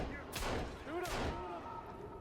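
Gunfire in the survival video game Sons of the Forest: two loud, sharp broadband shots about 0.7 seconds apart, each with a short ringing tail, set against a steady game ambience with voices chattering alongside.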